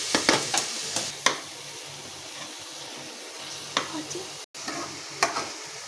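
Tomato curry being mixed in a pan, a soft low sizzle under scattered scraping and clinking strokes of a spoon, with one brief cutout midway.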